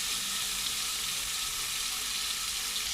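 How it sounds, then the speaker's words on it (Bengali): Paneer cubes fry in oil in a wok, producing a soft, even sizzling hiss that stays constant throughout and is heard alone. "পনিরগুলি ফ্রাই করছি"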